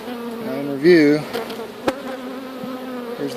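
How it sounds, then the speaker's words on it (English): Honey bees swarm around an opened backyard hive during an inspection, giving a close, steady buzzing with a louder swell near the start; a voice speaks briefly. "See a lot of bees in there just kind of running around."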